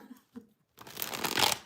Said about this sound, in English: So let me shuffle again.